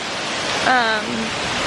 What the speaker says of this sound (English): this waterfall is spectacular